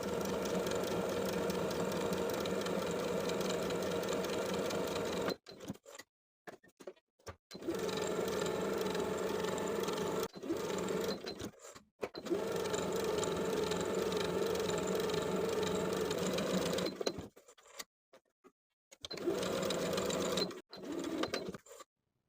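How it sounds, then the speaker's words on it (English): A domestic sewing machine runs long basting stitches along a skirt seam, its steady whirring hum going in long bursts broken by short pauses and stop-start taps, close and alone. "I'm going to do 2 sets of basting stitches using the longest stitch length on my machine"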